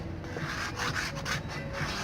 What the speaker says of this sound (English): Now I'm using acid again and a scraper to soften